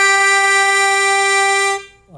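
A harmonica sounds holes 6 and 3 together while the tongue blocks holes 4 and 5, one long steady held chord, loud and close, cutting off sharply near the end.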